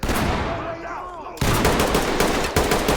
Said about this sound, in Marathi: परत परत गोळ्या लागल्या वाटतं